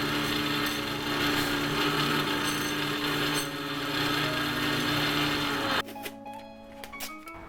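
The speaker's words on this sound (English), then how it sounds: "now I'm going to go to the Scotch-Brite belt" Belt grinder with a Scotch-Brite belt polishing a forged hunting knife blade, a steady loud whirring grind for most of the stretch that cuts off abruptly near the end, leaving quieter scattered handling sounds.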